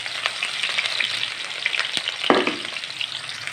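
Onion fries in oil on a stove, giving a steady, close crackling sizzle with a single sharper knock partway through.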